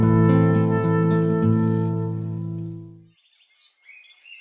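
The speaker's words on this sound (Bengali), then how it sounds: "পাখি ডাকছে।" Songbirds chirp and tweet at dawn as a radio drama sound effect, a bright twittering chorus with a steady harmonic tone beneath. The chorus fades after about three seconds, leaving a few faint high calls.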